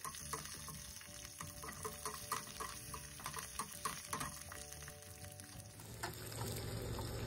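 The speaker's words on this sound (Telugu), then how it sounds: "తర్వాత పచ్చిమిర్చి వేసుకొని అవి కూడా దోరగా వేయించుకోవాలి" Peanuts, dried red chillies and green chillies fry in hot oil for a lemon rice tempering, with a steady sizzle and light stirring clicks heard close up and without talk.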